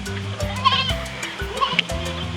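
Goat bleating in short repeated calls, set over a steady children's music backing that runs throughout.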